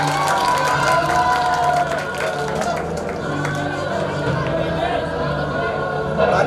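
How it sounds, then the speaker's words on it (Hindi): At a school annual gathering, a crowd applauds and cheers amid general chatter and a murmuring hall, the clapping and voices blending into a steady, moderately loud wash. "जोरदार तालियां।"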